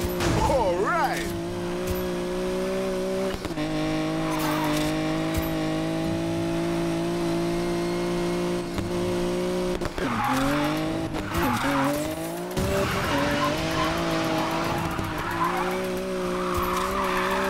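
A Nissan car drifts in Need for Speed Payback, its engine droning steadily while tires squeal long and loud through the slide, with a voice speaking over the noise.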